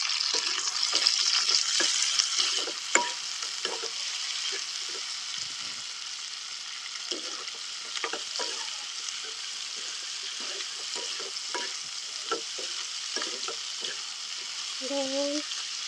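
Tomatoes fry in hot cooking oil in a pan, giving a steady close sizzle broken by repeated stirring scrapes, with a brief voice near the end.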